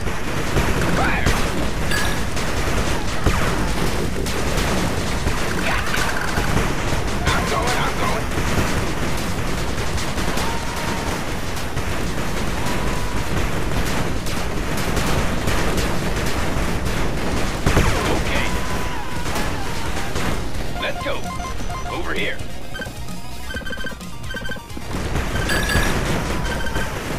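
Dense, nearly continuous gunfire and explosions from units attacking in the retro strategy game 8-Bit Armies, loud throughout with short unit voice callouts mixed in.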